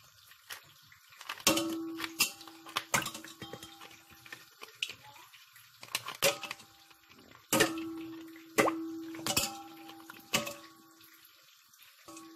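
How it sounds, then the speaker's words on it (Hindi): Ice cubes drop one after another into a glass of lemon Roohafza sharbat, making a series of sharp clinks and plops at irregular intervals, close and clear, with no talking. "तो अभी हम आइस डाल देंगे"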